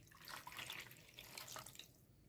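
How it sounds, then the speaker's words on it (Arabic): Warm water pours from a tap into a cup for yeast dough for cheese borek, a steady splashing stream that runs for about two seconds and then tapers off, close and alone. "كوباية مية دافية،"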